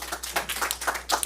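A brief burst of audience applause for a speaker at a talk, scattered clapping heard at close range over a faint hum.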